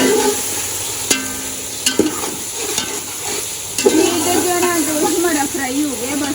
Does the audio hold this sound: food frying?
yes